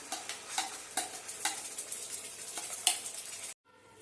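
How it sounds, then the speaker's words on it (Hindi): A wet ground paste for paneer korma sizzles in a hot frying pan while a utensil stirs and scrapes in a steady rhythm, then the sound cuts off abruptly. "अब इसमें हम ये पिसा हुआ पेस्ट डाल देंगे जो हमने तैयार किया है।"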